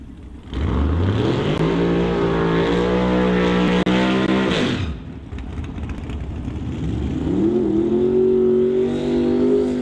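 Outlaw 275 drag racing cars fire up and launch during qualifying at Doorwarz 11: loud engines roar and rev, one rising sharply then cutting off, and another climbs again close by.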